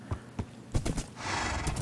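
A Minecraft horse clops its hooves in a few quick, close steps, then gives a short whinny, all fairly quiet and on its own.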